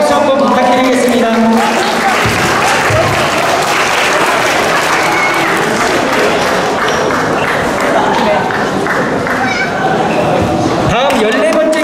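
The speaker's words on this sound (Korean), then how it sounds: "우리 포기하지 않고 끝까지 경기하면서 싸워주신 양 선수에게 뜨거운 응원의 박수, 경배의 박수 한번 부탁드리겠습니다" An audience at an amateur boxing match claps and cheers loudly for a boxer, sustained applause from a crowd filling the hall, with an announcer speaking over it.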